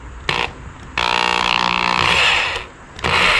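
A power tool drives screws into wood while building an iron throne prop, a steady loud motor whine running about two seconds after a brief opening burst, then resuming after a short dip.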